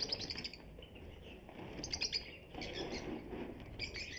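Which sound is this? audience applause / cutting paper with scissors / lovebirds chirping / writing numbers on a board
lovebirds chirping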